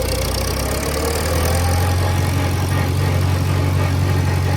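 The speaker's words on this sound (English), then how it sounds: "Click fourth gear, you can hear it under a real load." A tractor engine pulls hard in fourth gear under a real load, making a loud, steady, low droning rumble that holds throughout with no voices.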